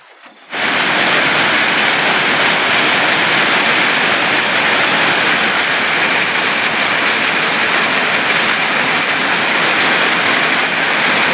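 Heavy rain pours down during a stormy night of fishing with worm bait, a dense, loud, steady hiss that starts abruptly and continues unbroken with no talk.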